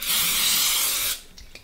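Butter-flavored cooking spray is sprayed into a casserole dish in one steady, close hiss lasting about a second, followed by faint handling noises.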